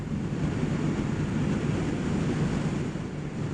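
Wind buffets a camera microphone mounted on a Kawasaki Ninja 1000SX motorcycle during a morning ride, a loud, constant low roar that continues without a break.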